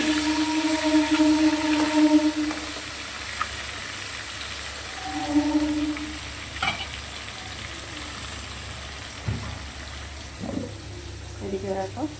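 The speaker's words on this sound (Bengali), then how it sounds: "মাছটা তাহলে ভেজে নিই।" Katla fish frying in hot oil, a continuous bubbling sizzle that is loud early and eases off, with occasional clinks of a utensil nearby.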